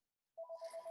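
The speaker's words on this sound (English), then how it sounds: "That's my phone ringing." A phone rings with a steady electronic tone pulsing in quick, even beats after a moment of silence, fairly faint and alone in a quiet room.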